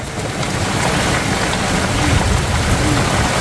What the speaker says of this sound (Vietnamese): Mưa đá rồi. Đá lạnh ngắt à. Cục đá to chưa này.